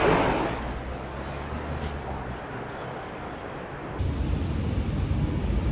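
Street traffic heard outdoors through a phone's built-in microphone: a steady broadband roar of passing vehicles with a brief hiss and a faint rising whine, growing slightly louder near the end.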